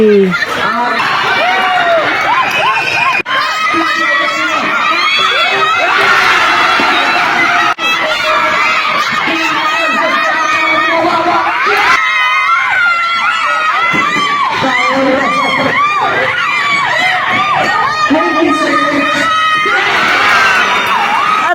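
Spectators at a neighborhood barangay basketball game shout and cheer nonstop, a loud, close, chaotic mix of high-pitched children's yells and whoops with overlapping voices throughout.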